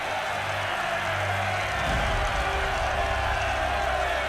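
Army troops in the Shogun 2 strategy game roar a massed battle cheer, a dense crowd swell that rises and thickens midway and holds loud and steady to the end.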